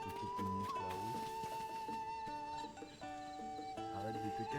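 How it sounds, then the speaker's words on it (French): A horse in the video game Zelda Tears of the Kingdom makes soft, quiet snorts and movement sounds beneath steady, tonal game music. "Le cheval a l'air d'être ok pour nous montrer la route."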